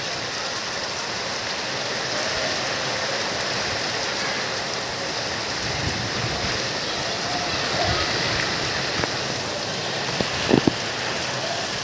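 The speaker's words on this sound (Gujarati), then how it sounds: "તમે હાલમાં જુઓ છો કે લાઈવ વરસાદ પણ ચાલુ થઈ ગયો છે" Heavy rain pours down steadily and evenly throughout, a dense continuous hiss of drops hitting surfaces, with a few faint knocks near the end.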